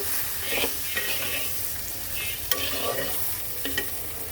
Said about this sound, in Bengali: একটা চামচ হলুদের গুঁড়া একটা চামচ ধনে গুঁড়া মিক্স করে দিলাম